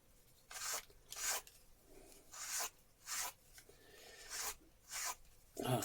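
A fox tail being brushed: about seven short, crisp bristle strokes in a steady rhythm, each a bright swishing rasp, close-up and quiet, with near silence between strokes.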